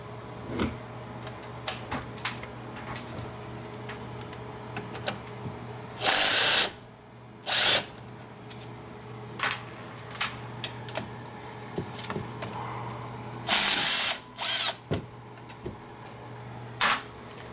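A power tool with a 14 mm socket spins off the brake caliper bolts of a Nissan Rogue in short, loud whirring bursts, separated by clinks and handling noise over a low steady hum.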